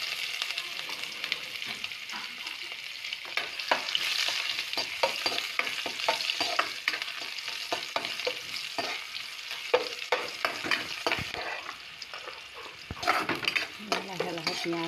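Onions with chili and cumin seeds fry in a hot wok, a steady close sizzle broken by repeated scraping and clinks of a spoon stirring them, with no talking.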